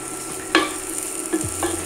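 Onions going into a pan and frying, with a few sharp clinks and scraping stirs over a steady low sizzle, close by and without talk.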